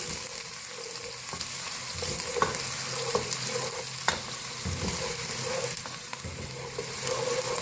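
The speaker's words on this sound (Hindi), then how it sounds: "प्याज हमारा फ्राई हो चुका है" Onion sizzles and crackles in hot oil, a steady frying hiss broken by occasional stirring scrapes and pops.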